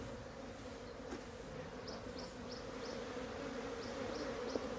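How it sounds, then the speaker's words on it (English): Honeybees buzz around opened hive frames during a swarm prevention check, a steady close swarm drone with faint repeated light clicks from handling the frames, no speech. "Yeah, it's a lot of bees all over."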